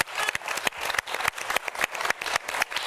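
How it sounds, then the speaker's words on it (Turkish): A Turkish daytime TV studio audience claps in a rhythmic, fairly quiet burst of applause, with the individual hand claps landing in a regular beat. "Emniyete, Denizli Emniyetine kocaman bir alkış lütfen"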